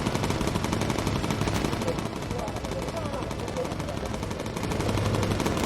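Machine guns on a World War II bomber in Bomber Crew fire continuously in dense, rapid rattling bursts, loud and unbroken, with engine drone beneath and a voice speaking over the gunfire.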